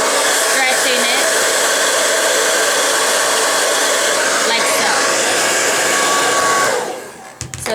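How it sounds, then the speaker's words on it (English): A hair dryer blow-drying hair after a wash, a loud steady whooshing blast held close for most of the clip before it drops away near the end, with small handling knocks. "Blow dry it."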